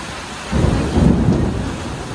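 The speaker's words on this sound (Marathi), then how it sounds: "मस्त असं गरजतोय" A low rumble of thunder rolls in over steady rain in a village in Banval, swelling and then fading away.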